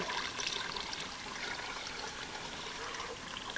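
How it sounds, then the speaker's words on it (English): Water drains from a gold pan into a bucket during desert wet panning, a soft steady trickle and pour that continues evenly throughout at moderate loudness. "what we're going to do right now is drain our water back into our bucket without spilling it"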